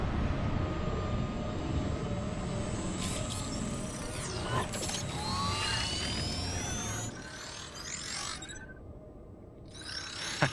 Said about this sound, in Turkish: Kapsül mü iniyor?